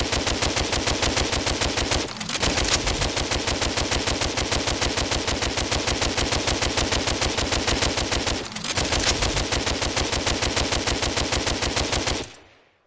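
Constant rapid gunfire from the VR shooter DWVR: an unbroken stream of evenly spaced loud shots, interrupted by two very brief pauses, then stopping abruptly at the end.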